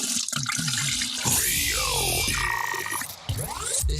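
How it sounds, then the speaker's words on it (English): A toilet flushes with a rushing swirl of water that rises, churns and drains over a few seconds, with a brief voice heard at the start. "This show is almost as enjoyable as hearing the sound of the toilet flush."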